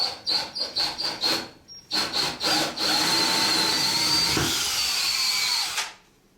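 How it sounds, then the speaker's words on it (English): A power drill revs in a series of short bursts while drilling a hole for a sliding shower installation, then runs continuously for a few seconds before winding down and stopping. "We'll go ahead and drill it."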